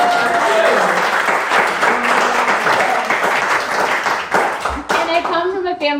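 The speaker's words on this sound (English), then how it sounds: "So round of applause." Steady, dense clapping from an audience at a Virginia Beach school board and city council candidate event, sustained for several seconds and partly overlapped by a voice.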